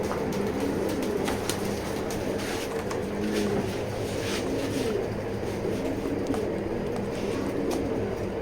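Pigeons cooing at a pigeon loft, steady soft coos over a constant dense background hum and bustle, with faint brief ticks scattered throughout.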